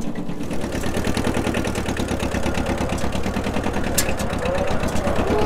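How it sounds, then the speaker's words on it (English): A tractor engine runs steadily and loudly nearby, a throbbing low idle-like rumble heard from riding in the back, with no speech over it. "It is stupidly fun being in the back of the tractor."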